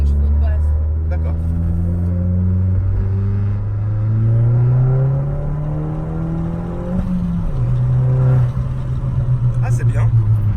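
A Citroën DS3 THP being readied for track use revs its engine close by: a loud, steady drone climbs in pitch over several seconds, then drops abruptly and settles back to a lower hum.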